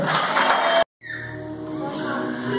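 A church congregation cheers and shouts in loud, sustained acclaim, broken by a brief silence before the crowd noise resumes, with voices mixed in.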